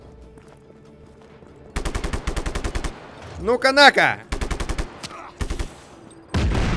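Rapid automatic gunfire from the video game Just Cause 3 comes in several loud, close bursts of tightly spaced shots, and a voice cuts in between the volleys.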